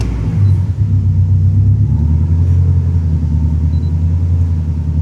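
Car engine idling with a deep rumble, then revving up around the midpoint to a higher steady drone, loud and close with no speech.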